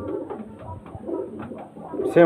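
Pigeons of an old generation, kept at a home where birds are sold, coo in soft, repeated throaty pulses up close, ending on a brief sharp knock.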